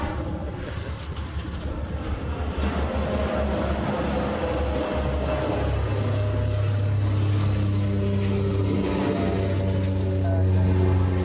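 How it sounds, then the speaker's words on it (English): A Cessna 172 Skyhawk propeller plane lands on runway 8 Right at Honolulu airport, its steady engine drone loud and close, swelling into a sustained low hum over roughly eleven seconds with no talk. "I think they're bringing in a 172 Skyhawk on 8 right."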